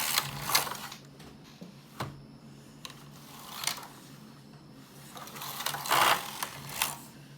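Domestic knitting machine carriage pushed back and forth across the needle bed while knitting a baby sweater, giving repeated mechanical clacking sweeps with brief pauses between passes, close and moderately loud.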